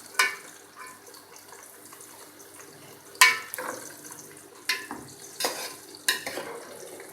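Okra (bhindi) frying over medium heat in a pan, a low steady sizzle broken by several sharp stirring scrapes and clinks near the end.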